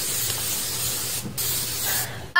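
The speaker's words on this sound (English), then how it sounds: "The most amazing hairspray you'll ever use. Add some to get a teasing that's pleasing." Stuck Up hairspray sprayed from an aerosol can in a television commercial: two long close hissing bursts separated by a brief pause.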